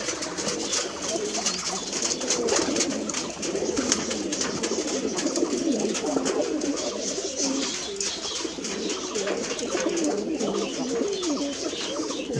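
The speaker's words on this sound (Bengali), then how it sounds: "এখানে সাদা কবুতর আছে, অনেক রকমের কবুতর আছে দর্শক এখানে" A flock of deshi Giribaj pigeons at a farm, including white birds and chicks, coo continuously in overlapping soft, throaty calls close by.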